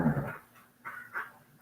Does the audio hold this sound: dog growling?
yes